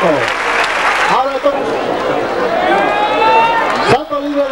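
Spectators clap for the bull-dodger Tito at a recortes show in Vinaròs, a loud continuous burst of applause with an announcer talking over it and crowd noise rising and falling.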